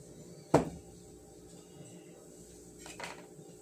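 Diced baking potatoes, carrots and celery stalks tip into a soup pot for a beef vegetable soup, giving one close, sharp clatter followed by a softer, fainter bump a few seconds later.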